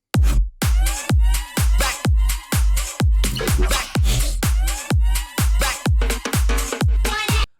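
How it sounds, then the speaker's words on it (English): Layered laser zaps in an electronic dance track, fast pitch-dropping synth blips firing in a tight rhythmic pattern over a heavy pulsing bass, loud and dense. "Some lasers."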